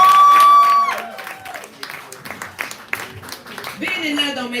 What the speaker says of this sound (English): Clap it up and sit down